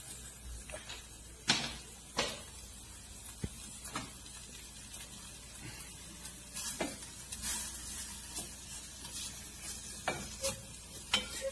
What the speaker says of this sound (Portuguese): a gente vai ter que deixar esse bacon derreter. Fogo baixo e vamos deixar ele derreter